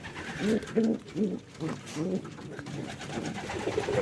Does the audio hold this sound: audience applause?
no